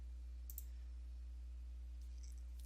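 Two crisp computer mouse clicks sound close and alone in a quiet room, one early and one at the very end, while confirming OK on a PowerPoint slide-size dialog.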